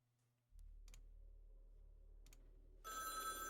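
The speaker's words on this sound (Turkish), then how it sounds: "Telefon çalıyor." Telephone ringing in the video game You Are The Judge, a low electronic hum starting abruptly with a few short clicks, then a bright trilling ring bursting in near the end, quiet and alone.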